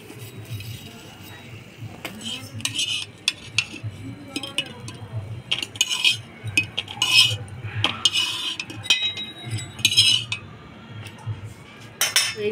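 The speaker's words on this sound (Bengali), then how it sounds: "এগুলো চাপড়ি পিঠা ভাজা" Chapri pitha frying in a pan, with a steady low sizzle underneath and frequent light metal clinks and scrapes of a ladle, close and fairly busy throughout.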